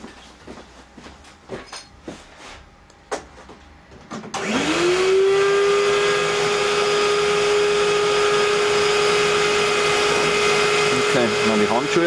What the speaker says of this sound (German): Dann schalten wir mal den Staubsauger ein